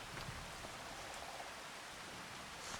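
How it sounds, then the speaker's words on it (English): Steady rain in the farming video game Farming Simulator 25, a soft, even wash of falling drops with faint patters, continuous and quiet with no talking. "It's already 4:30 and it is still raining"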